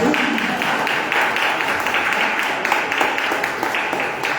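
A church congregation applauds continuously, dense clapping that holds steady throughout with a murmur of voices underneath.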